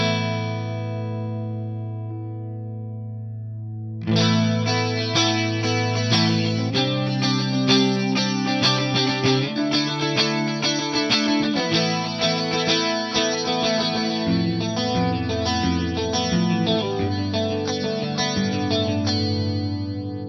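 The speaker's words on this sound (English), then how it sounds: "this is going to be a basic kind of sine wave chorus style thing." An Eventide Rose pedal set for a sine-wave chorus effect colors a played instrument, starting with a decaying held note, then a busier run of notes with a gentle shimmering wobble, loud and close.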